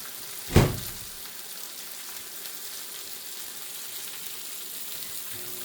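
Butter and banana bread frying in a pan, with a loud burst of sizzle near the start that settles into a steady, quieter hiss.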